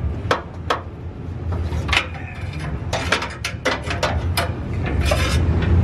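A 22 mm open-end wrench works the downstream bank 1 sensor 2 oxygen sensor on a 2013–2019 Nissan Sentra, with loud close metallic clicks, scrapes and knocks at irregular intervals and no talking.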